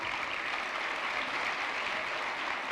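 Applause from a gala audience honoring Ron Trevino, a steady, dense wash of many hands clapping at even loudness, with no pauses.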